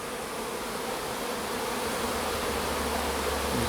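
A honey bee colony at an apiary hive hums with a dense, steady buzz close by, the drone staying constant throughout with no voices.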